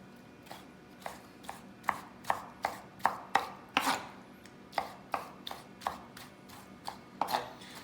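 A knife chops roasted red pepper on a cutting board in a run of about twenty crisp, evenly spaced thwacks, clear and close with no talking.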